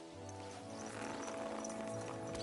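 Horse hooves in the video game Kingdom Come: Deliverance 2, a faint steady clip-clop over a low ambient game soundscape with a background hum, no clear talk.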